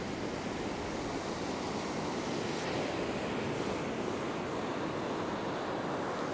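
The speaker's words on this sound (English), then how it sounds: "you can tell when a wave crashes onto your line" Surf rolls in on an ocean beach without a break, a dense wash of crashing waves with some wind buffeting the microphone and no voices.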